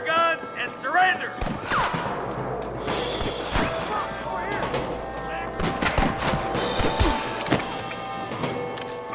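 Gunfire in Red Dead Redemption: repeated sharp shots and bursts cracking through a chaotic Wild West shootout, loud and irregular, with crashes and voices shouting over it.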